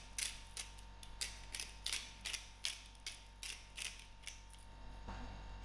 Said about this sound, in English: I'm going to give a generous grind of pepper and a generous grind of salt